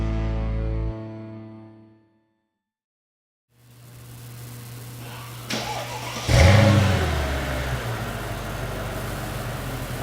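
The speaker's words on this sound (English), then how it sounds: "Under the hood of this SL500, you're going to find the 5-liter V8." A 2003 Mercedes-Benz SL500 Sport with its 5-liter V8 fires up after a pause, settles into an idle and then revs sharply, loud and close, with no speech.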